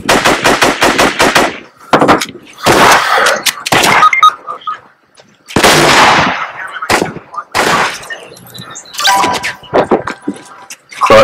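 Rapid bursts of video game gunfire during a multiplayer shootout, with a fast automatic volley at the start followed by several separate loud bursts and shots spread throughout, some near and some fainter.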